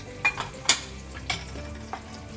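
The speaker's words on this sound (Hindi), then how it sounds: "और इसे मसालों को 1 सेकंड के लिए भून लेंगे हम।" Turmeric and coriander powder roasting in a hot pan for gajar matar sabji, a soft steady sizzle with a few brief scrapes and clinks of a spoon stirring the spices, close and fairly quiet with no talking.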